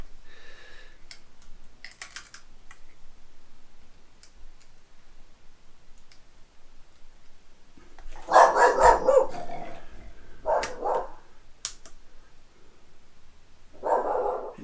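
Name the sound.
Danish-Swedish farm dog barking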